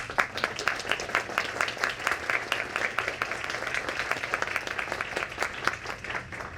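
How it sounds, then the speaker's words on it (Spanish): Sustained audience applause for the panel speakers at the close of a public discussion, dense, steady clapping from a roomful of people, moderately distant and without talk. "Por favor, pido un fuerte aplauso para ellos"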